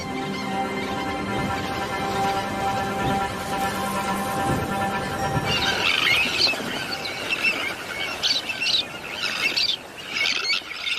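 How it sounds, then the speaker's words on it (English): Shrill, insistent squealing begging calls from bird chicks on a beach, steady and overlapping at first, then breaking into sharper, higher chirps nearby with no talking. "Their cries for food are a new and insistent sound on the beach."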